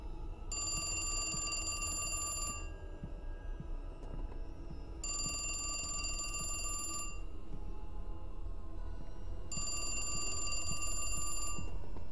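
A phone rings in the horror video game Hallowseed, three long bursts of repeated bell-like trilling separated by pauses, heard alone over a steady low ambient drone.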